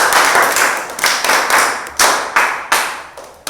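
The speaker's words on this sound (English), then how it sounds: "Now, dear champions, can you clap our friends here?" Children clap together for their friends in a classroom teamwork spelling activity, a series of sharp, loud group claps in a loose, uneven rhythm, each burst decaying quickly before the next.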